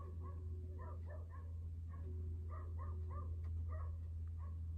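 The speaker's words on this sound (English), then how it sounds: "you may hear a little whimper or a whine in the background at some point" A dog whimpering and whining softly in the background of an indoor room, a string of faint high whines over a steady low hum, with no talking.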